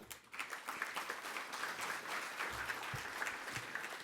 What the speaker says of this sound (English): a huge round of applause to you as well